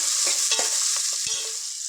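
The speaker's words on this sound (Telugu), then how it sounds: "మీడియం సైజు త్రీ ఆనియన్స్ ఒక ఫోర్ మిర్చి వేసుకుంటాను వేసుకొని వీటిని చక్కగా ఫ్రై చేసుకున్నాం" Medium onions and green chillies frying in a pan for a small-fish curry make a close, steady sizzle with repeated stirring scrapes.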